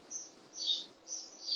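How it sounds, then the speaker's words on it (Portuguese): Small birds, sparrows among them, chirp in quick high bursts at a moderate distance, repeating in short clusters with a faint background murmur. "Os passarinhos aí alegram o ambiente"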